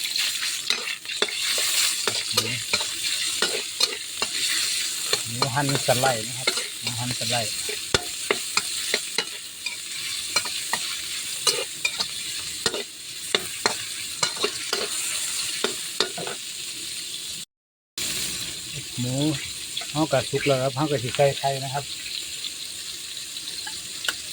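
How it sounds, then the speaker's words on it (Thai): Pork stir-fried with garlic in a pan for fried rice, a steady hissing sizzle with frequent rhythmic scraping and clanking of the spatula against the pan, interrupted once by a brief gap. "เริ่มยังเขาก็ใส่หมูลงไปผัดครับ"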